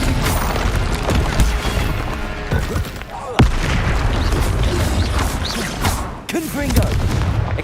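Confringo spell explosions in Hogwarts Legacy boom repeatedly, with sharp loud blasts amid ongoing combat clatter and crackling, close and forceful, several distinct impacts across the span.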